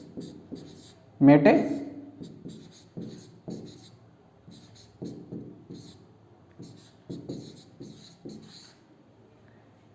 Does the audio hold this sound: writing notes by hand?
yes